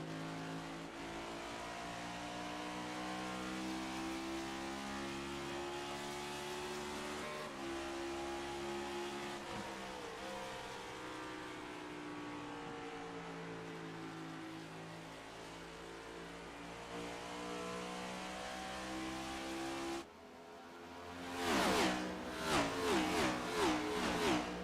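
Race cars in iRacing at Phoenix Raceway drone loudly and steadily side by side down the back straight, engines holding a sustained roar before a sharp rise in pitch as they rev and shift near the end.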